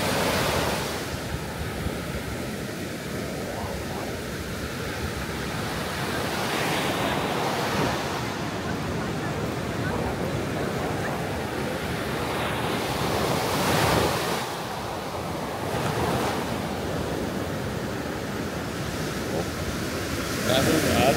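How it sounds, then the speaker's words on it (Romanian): Sea waves roll onto the beach at Gura Portiței, a steady, loud surf roar with recurring swells and heavy wind buffeting the microphone throughout. "doar să asculti marea"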